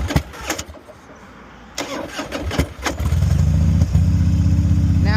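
A motorcycle engine with its choke pulled is cranked with several brief starter bursts and pauses, then catches and settles into a loud, steady, rumbling idle.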